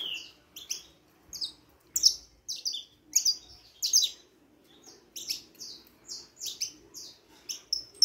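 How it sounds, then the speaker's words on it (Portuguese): Caged saffron finch singing up close, a lively run of bright chirps and trilled phrases in repeated bursts with short pauses, no voices. "Tá aí cantando, aprimorando o canto"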